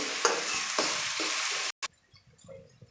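Two chopped capsicums fry in hot oil with a loud, even sizzle and stirring scrapes, then the hiss cuts off abruptly, leaving only faint clinks and quiet.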